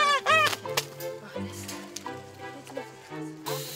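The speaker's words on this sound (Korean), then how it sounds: "계집에 들어가 있던 거위 카사노바도 풀어주고" A goose let out of its pen honks several times in quick, nasal bursts close by, with a few soft knocks and rustles between the calls.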